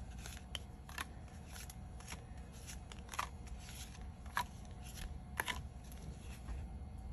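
Handmade A2 cards on 110 pound cardstock bases with silver foil paper layers are set down one after another on a table, giving quiet, irregular papery taps and slides over a faint background hum.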